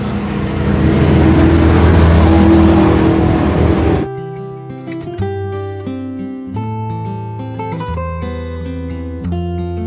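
Car roaring past on a highway beside a roadside hut, a loud rushing pass that swells and then cuts off abruptly into music.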